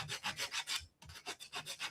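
Sandpaper rubbed by hand along the painted edges of a small wooden craft frame, about a dozen quick, even back-and-forth strokes with one brief pause midway, close and fairly quiet.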